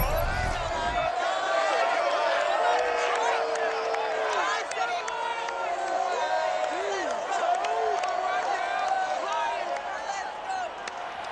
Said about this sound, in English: A good crowd on hand and seemingly ready to go in the Motor City